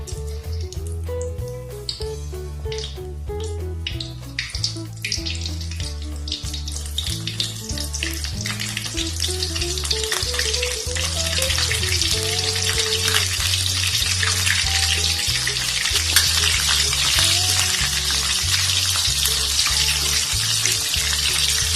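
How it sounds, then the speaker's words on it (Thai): Vegan protein pieces deep-fry in hot oil in a wok over medium heat, giving a steady broadband sizzle that grows louder and denser partway through, with music playing underneath. "จากนั้นเราก็นำโปรตีนลงทอดเลย"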